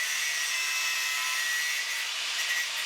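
Power tool cutting off the unneeded ends of a metal nail being shaped for a handmade tattoo machine frame, a steady high-pitched grinding whine that runs unbroken and close throughout.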